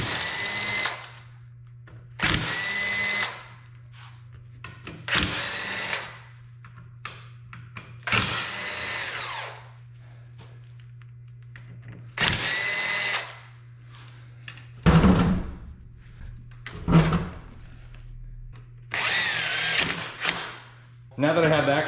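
A power drill removes Torx bits from the seat sliders of a Toyota FJ Cruiser, giving about eight short, loud whirring bursts separated by pauses, with a faint steady hum underneath and some clanks between bursts.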